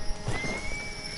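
Horse in a video game giving a short whinny mixed with a few clip-clopping hoofbeats, close and fairly loud, brief and alone without talk.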